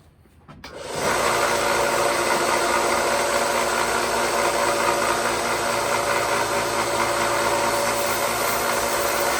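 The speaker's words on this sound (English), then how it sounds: "try to sand these pins down some" A power sander grinds down the pins of a knife handle, kicking in after a quiet moment and then running at a loud, steady whirr for the rest of the clip.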